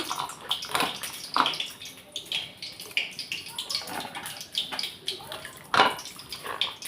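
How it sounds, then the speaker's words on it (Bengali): Eggplants and potatoes are washed by hand in water in a Bengali home kitchen: irregular splashing and sloshing with short bursts of dripping water, close up and with no talk. "আমি বেগুন আলুগুলো তুলে নিচ্ছি ভালো করে ধুয়ে"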